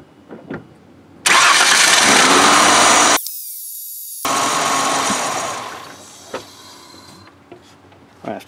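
A 1999 Ford/Mercury 2.5L V6 cranks briefly and catches, then revs loudly and settles toward a steady idle, close up, with small clanks before and after.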